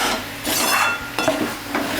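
A utensil scrapes and clinks against a pan while bottle gourd curry is stirred, a few short strokes of quiet scraping with a soft sizzle underneath.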